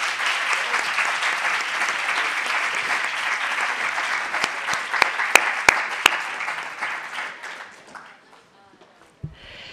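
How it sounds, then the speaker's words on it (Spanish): Sustained audience applause at a closing ceremony, honoring the representing institutions: dense, steady clapping that holds for several seconds, then thins to scattered claps and fades to near silence near the end. "dando un fuerte aplauso a las instituciones que nos representan"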